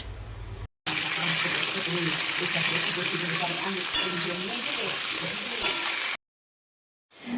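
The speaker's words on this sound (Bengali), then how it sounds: "ওই মাছ ভাজার তেলে কিন্তু আলুগুলোকে প্রথমে একটু ভেজে নিতে হবে, জাস্ট 2 মিনিট" Potato pieces cut for a Bengali-style rohu fish curry fry in oil left over from frying the fish, giving a steady broadband sizzle with some stirring, close and fairly loud, breaking off briefly near the end.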